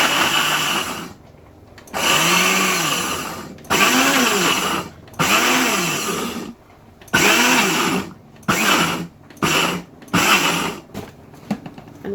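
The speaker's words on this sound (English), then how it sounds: "I keep fighting with this blender every day." A kitchen blender runs in repeated bursts while preparing ayamase Nigerian designer stew, each loud whirring pulse rising and falling in pitch, separated by short pauses, with no talking.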